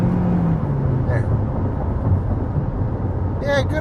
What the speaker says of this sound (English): good amount of wind noise